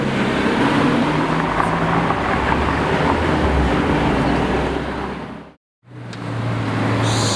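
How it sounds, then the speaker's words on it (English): A Lamborghini Aventador S drives past with a loud, dense roar that holds steady, then cuts out abruptly to near silence before the engine noise returns. "There goes Lambros and the Aventador S."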